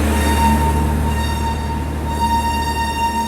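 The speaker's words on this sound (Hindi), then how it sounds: "ये आपकी इस दुरंतो एक्सप्रेस के पावर की, यानी कि WP5 जो लगाए ना, उसकी हॉन्किंग गजब ही होती है।" A WP5 electric locomotive hauling the Duronto Express sounds its horn, a loud, sustained, steady tone held without break over a low rumble of railway machinery.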